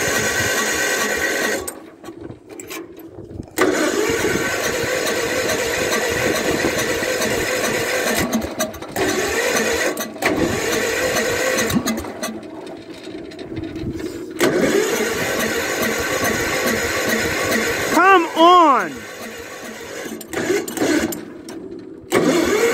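A Toro Wheelhorse 14 lawn tractor engine struggling through a hard cold start, with repeated bursts of cranking and sputtering separated by brief pauses.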